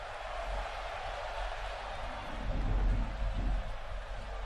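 A wrestling arena crowd in WWE 2K17 murmurs and roars at a pay-per-view event, a broad distant wash of noise that swells louder midway before settling back.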